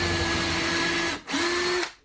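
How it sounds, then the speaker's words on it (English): A power drill whines steadily as a bit bores a hole into a wooden workbench base, pausing briefly before a second short burst that winds down at the end. "I'm just going to be using a drill bit to get a hole in the base"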